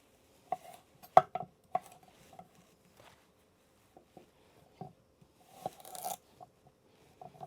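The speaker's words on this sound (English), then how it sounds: "These other vegetables, I'm going to cut them up." Knife chopping vegetables on a board before they go into a wood oven alongside a prime rib roast: sparse, irregular close cuts and taps with quiet gaps between them, and a denser burst of chopping near the end.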